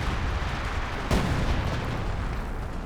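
Rocket artillery in the video game Company of Heroes 2 fires amid a dense rumble of battle, with one sharp, loud blast cutting through midway and a rolling boom that fades afterward.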